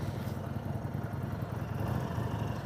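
Harley-Davidson Sportster motorcycle engine idling nearby, a low steady throbbing rumble with even pulsing and no speech over it.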